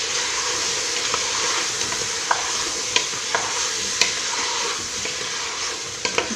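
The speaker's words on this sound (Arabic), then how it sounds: "ونقلي الكل مع بعض." Cinnamon stick pieces and black spices fry in a pan for Algerian chakhchoukha, giving a steady close sizzle with scattered small pops and stirring clicks throughout, no talking.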